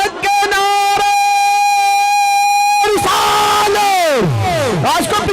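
A crowd at a gathering for a Sufi pir loudly shouts religious slogans in unison, sustained chanting that breaks into falling, echoing yells toward the end.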